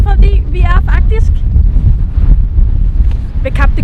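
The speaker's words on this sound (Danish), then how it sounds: "Det blæser virkelig meget hernede" Strong coastal wind at the Cape of Good Hope buffets the microphone with loud, continuous low rumbling gusts, while a person talks over it.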